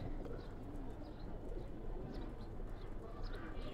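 Several pigeons, including a red-khaki-necked bird, coo amid a dense, continuous wash of noise, their calls soft and blended rather than distinct.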